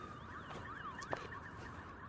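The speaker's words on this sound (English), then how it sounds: "You can tell the city up because you hear the sirens." Emergency sirens wail in the distance over Los Angeles, heard from a hiking trail in Runyon Canyon, faint and rising and falling in overlapping sweeps, with a brief tap close by.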